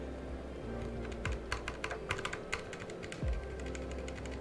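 A DZ60 mechanical keyboard fitted with different keycaps is typed on in a quiet room, soft irregular clicking keystrokes in short bursts, close but faint over low background hum.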